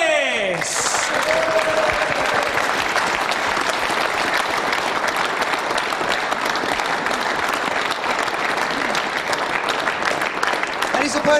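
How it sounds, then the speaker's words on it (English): Audience applause for Carl Morris at the 2006 World Pool Championship semi-final, a loud, dense, steady clapping from a large crowd that sustains unbroken throughout. "please a big round of applause for Carl Morris!"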